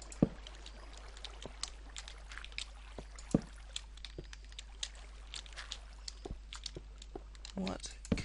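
Water trickles and drips in a Minecraft cave, a faint steady flow with scattered small splashes and clicks, quiet and close, with some soft mouth and movement noises.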